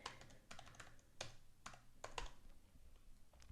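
Keys tapped on a computer keyboard while entering RGB colour values, a string of quick clicks in short bursts with brief pauses, close and fairly quiet, no voices.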